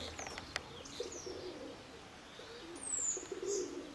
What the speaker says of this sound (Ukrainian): Сідає цей голуб.